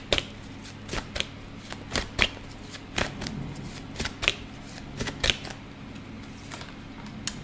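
Tarot cards shuffled by hand from a deck, a quiet series of crisp riffling snaps at a fairly steady rhythm, close and alone with no voices.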